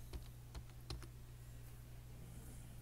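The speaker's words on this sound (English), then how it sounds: "Now I type, there it goes." Rapid clicks of typing on a computer keyboard, a few sharp keystrokes in a short burst followed by quieter tapping over a steady low hum.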